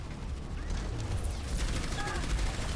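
Rapid gunfire from several weapons in the video game Overwatch crackles in dense bursts throughout, loud and near, with game effects mixed in.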